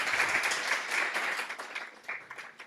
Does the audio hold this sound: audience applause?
yes